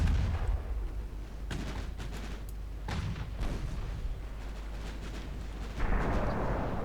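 Naval guns from a battlecruiser and light cruisers fire armor-piercing shells in the naval combat game Ultimate Admiral Dreadnoughts, giving several deep booming shots over a steady low rumble of battle ambience with no voices.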